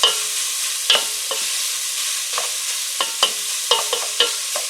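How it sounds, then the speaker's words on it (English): Chopped onion sizzling in a pot as the base for beef noodle soup, a steady bright hiss of frying with occasional light stirring scrapes, close and alone. "I'm going to just render this for about 5 minutes till the onion is getting soft"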